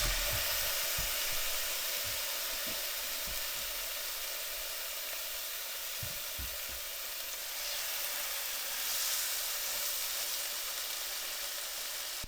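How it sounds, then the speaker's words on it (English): Fresh cod fries in a pan in Greenland, giving a continuous, even sizzle with occasional soft low knocks and bumps from the pan. "Frying really fresh cod like this is actually not optimal because it falls apart really easily."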